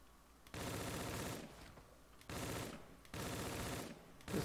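A gun fires in Call of Duty Zombies on the Stairs of Ammenu map, in three separate rapid bursts, each about a second long, with short quiet gaps between them; fairly faint overall and no talk.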